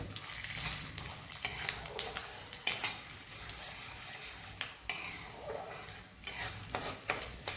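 Dal fries in ghee in a pan for coriander rice, with steady sizzling and frequent sharp scrapes and clinks of a stirring spoon against the pan; close and fairly loud, no talk.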